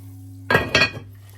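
A metal lid goes onto a pot of Jamaican dumplings frying slowly in oil, giving two quick, close clanks and a brief rattle over a low steady stovetop hum.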